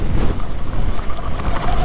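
Small waves break on a windy shore with a steady, noisy wash, wind buffeting the microphone close up.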